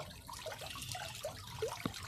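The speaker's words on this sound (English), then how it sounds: "I want the water to go more as a waterfall" Water from a pond pump in a homemade bucket filter setup trickles and splashes steadily into a pond, a close, fairly quiet wet patter with small droplet plinks and no voices.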